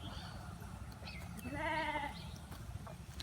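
On a farm, a single sheep lets out one clear bleat over low, steady background noise, fairly faint and brief.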